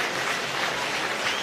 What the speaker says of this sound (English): Warm applause from the Aldershot faithful.